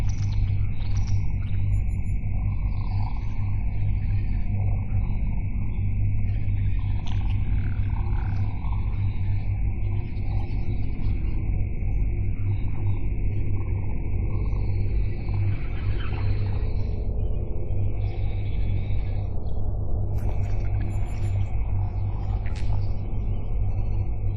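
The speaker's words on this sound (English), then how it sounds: "Reinitializing warp drive." A starship's warp drive reinitializing in Star Trek Online: a steady deep engine hum and rumble holding throughout, with a sustained tonal whine and occasional soft electronic blips layered above.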